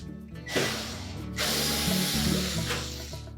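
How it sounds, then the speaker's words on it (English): Ratchet screwdriver backing screws out of the back panel of a Whirlpool range, a close rapid clicking ratchet in two bursts with metallic scraping, no talk. "we're going to remove some screws that secure it to the console"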